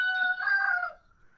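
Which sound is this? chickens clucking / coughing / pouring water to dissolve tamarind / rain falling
chickens clucking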